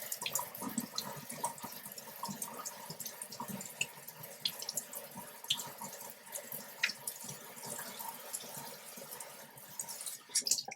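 Water from a tap runs and splashes steadily over canister filter parts being rinsed in a sink, with irregular drips and clatter throughout, fairly faint and close.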